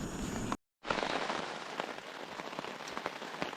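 Rain falling outdoors during a goat hunt, a soft, steady patter of drops with small pops on nearby surfaces, broken by a brief silent gap.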